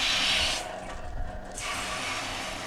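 Water poured into a concrete mixer drum makes a steady rushing splash that dips briefly and then carries on, with no talking.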